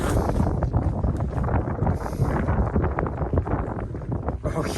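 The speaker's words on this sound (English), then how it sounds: "there's been some wind along this bridge" Wind gusts across a bridge on a hiking trail, a loud and constant roaring rumble buffeting the microphone for the whole stretch, with no clear speech.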